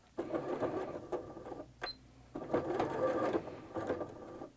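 A sewing machine stitches a napkin hem in several bursts of rapid mechanical whirring, each run a second or so long with brief pauses and a click between, close and fairly quiet.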